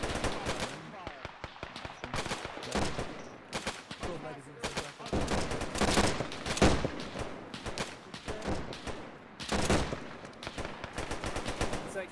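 Game gunfire in Arma during a Durham Light Infantry Sicily campaign exercise: repeated bursts of automatic fire and rifle shots, loud and rapid, with voices talking over the shooting.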